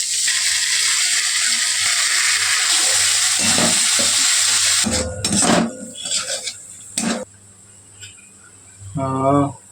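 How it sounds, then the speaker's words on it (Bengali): Ground spice paste for a fish curry sizzles in a hot pan with a broad steady hiss, then metal utensil scrapes and clanks take over with brief pauses, ending in a short rattling clatter. "বাটা মশলাটা এবার এর মধ্যে দিয়ে দিচ্ছে।"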